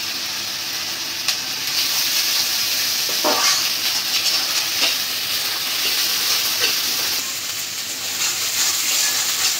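Green chillies going into a pan of frying onion and ginger garlic paste bring a continuous close sizzle, broken by scraping stirs and occasional sharper spits of oil.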